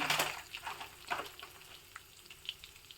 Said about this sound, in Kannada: ಒಗ್ಗರಣೆಗೆ ಅಂತ ಒಂದು ಒಣ ಮೆಣಸನ್ನು ಕಟ್ ಮಾಡಿ ಹಾಕಿದ್ದೀನಿ